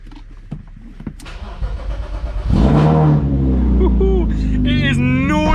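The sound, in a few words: loud BMW E36 M50 car engine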